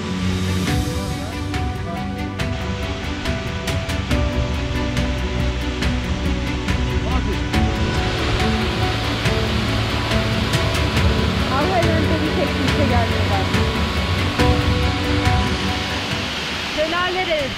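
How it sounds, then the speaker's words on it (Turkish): A mountain waterfall near the Cilo glaciers in Hakkari, in snowy sub-zero conditions, roars as a steady, loud broadband rush close by, with people talking over it at times. "Şelalelere doyamıyoruz."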